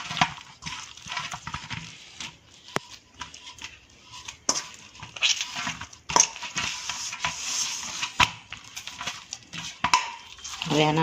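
Roti dough rubbed with a little oil and kneaded by hand, giving close, sticky squelches and soft pressing thuds in an uneven rhythm, with a faint voice in the background.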